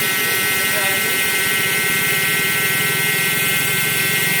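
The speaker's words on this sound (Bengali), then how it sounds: "কানেক্ট করার সাথে সাথেই খুব স্পিডে জল বেরোচ্ছে" A small 12V water pump runs continuously with a close, even electric buzz and whir, with no break in the sound.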